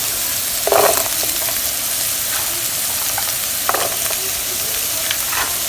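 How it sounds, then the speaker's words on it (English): Onions and carrot fry in a pan for vegetable fried rice, giving a steady loud sizzle with a few sharper bursts as the vegetables are stirred and tossed. "Fry our onions for a couple of seconds, and I'll add the harder vegetables first, which is the carrot next"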